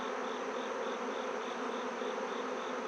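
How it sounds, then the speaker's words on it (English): Honey bees crowded on a hive frame in an apiary drone in a constant close buzz, loud and unbroken, with a thin high whine riding over the hum. "There's a pile of bees here."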